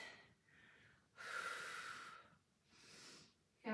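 Deep breathing during a Pilates reformer class: slow, close, airy inhales and exhales in a steady rhythm, about three full breaths, fairly quiet and with no talk over them.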